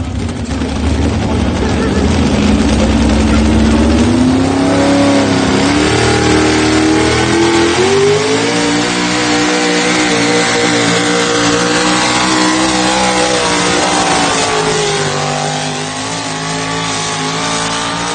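A pulling truck's engine revs hard and loud throughout a pull at a truck-pulling competition, a sustained roar whose pitch climbs and wavers as the run goes on.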